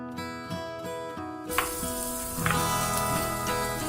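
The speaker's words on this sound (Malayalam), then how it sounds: "പൊട്ടറ്റോ ഉരുളക്കിഴങ്ങ് ഇതിലേക്ക് ചേർത്ത് കൊടുക്കാം." Chopped carrot and potato sizzle steadily in a hot pan while cooking oats pulao, with a louder burst of frying as more vegetables drop in partway through, then a continuous close crackle with occasional stirring.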